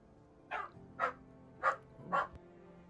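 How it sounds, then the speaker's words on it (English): A dog barks four times in a steady, evenly spaced rhythm, each bark short and fairly close, with no talking around it. "Second I unmute, he barks again."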